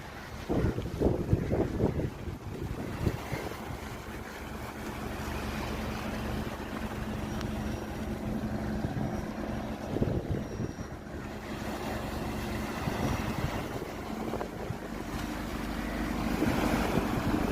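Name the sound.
boat speeding across the water at Karaikal beach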